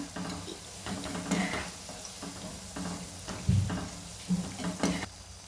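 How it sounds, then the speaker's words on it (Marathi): Bhaji fritters deep frying in hot oil, giving a steady low bubbling sizzle with occasional louder pops and stirring clatter across the whole stretch. "बघा असं मस्त आपलं भजी तळायला लागले"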